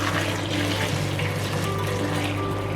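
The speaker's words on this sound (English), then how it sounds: "Now top on this we're going to add salt water." Salted water, made with three tablespoons of salt in boiling water, pours steadily over cut cucumbers for Korean cucumber kimchi, a continuous close splashing rush with no pauses.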